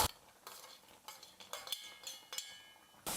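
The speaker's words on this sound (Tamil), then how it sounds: "எல்லாத்தையும் சேர்த்து நல்லா மிக்ஸ் பண்ணி விட்டுட்டோம்னா போதும்" A spoon works through payasam with cashews and raisins in a pot, making intermittent scraping and clinking strokes in short bursts, close and fairly quiet, with no talking.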